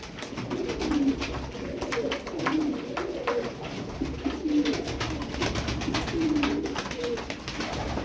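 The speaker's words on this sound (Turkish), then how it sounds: "Çok güçlü bir kuş." Arabian game pigeons coo steadily and close, a repeated low rolling call every second or so, with light scratching and flutter noises throughout.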